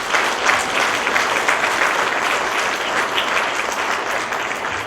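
Steady, even applause from a congregation during remarks about a bishop, a continuous wash of clapping with no talk over it.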